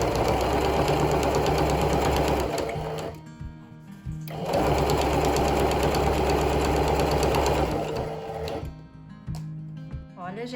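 A sewing machine runs a straight seam down the middle of a fabric strap for a small pouch bag, buzzing steadily in two long runs with short pauses between them.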